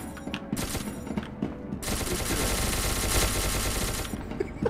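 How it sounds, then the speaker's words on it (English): Gunfire in the video game SCP: Secret Laboratory, sharp shots at first, then a dense sustained spray of automatic fire with some single louder cracks, close and loud, without talking. "he was shooting everyone"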